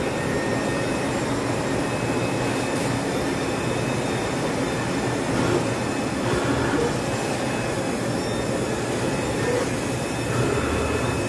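A 3D spring bending machine running smoothly without its cutter fitted, giving a loud continuous mechanical whir and rumble with faint rhythmic clicks, steady and unbroken throughout, with no talking.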